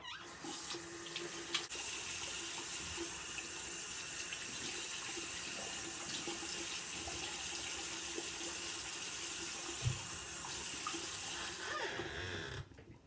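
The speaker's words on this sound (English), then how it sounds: "I'm just going to rinse off my face now." Cool water runs steadily from a bathroom sink tap while someone rinses their face, a continuous close splashing hiss with a few brief louder splashes before it cuts off at the end.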